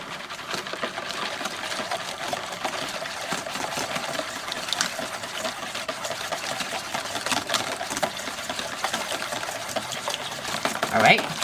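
Whisk circling steadily through blackstrap molasses and other wet fruitcake ingredients in a bowl, a continuous close rhythmic scraping and sloshing that runs the whole time, with a slight bump near the end.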